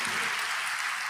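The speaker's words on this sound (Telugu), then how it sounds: "పట్టు చప్పట్లు పట్టు" Brief burst of congregation applause at a Telugu church sermon, dense steady clapping heard alone for about a second.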